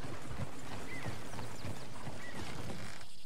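Horse hooves clip-clopping in Red Dead Redemption 2, a rapid irregular patter of hoofbeats at moderate distance, fairly faint over a background hiss.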